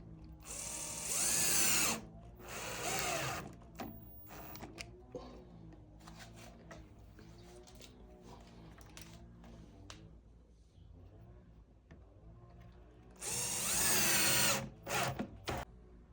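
A power drill drives 16 mm self-tapping screws into a white baby changing dresser during assembly. There are two close, whirring bursts early on, quieter handling noises in between, and a final strong burst near the end.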